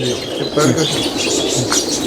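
Cheena pigeons in a loft in Sharjah, UAE, cooing close by with a flutter of wings, a brief continuous burst of soft calls.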